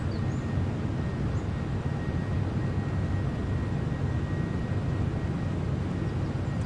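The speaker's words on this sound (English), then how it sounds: "Very whiny, just like a 767 should be." Boeing 767-300ER jet engines in Microsoft Flight Simulator 2020 drone with a steady broadband roar and a thin sustained whine, heard from outside the airliner in cruise climb.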